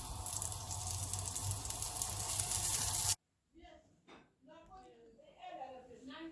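A mashed potato paratha fries on a pan in oil, a loud, steady, close sizzle that cuts off abruptly halfway, after which people talk.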